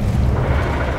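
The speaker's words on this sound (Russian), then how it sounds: "Что это за взрывы?" A dense, continuous roar of self-destructing robots exploding in Overwatch 2, loud and rumbling, with heavy low-end booms blending into one sustained blast.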